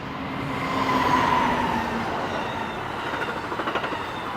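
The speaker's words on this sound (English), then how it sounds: "as this train goes by" A train rolls past nearby with a steady low rumble and rail noise, and faint rhythmic wheel clatter builds toward the end.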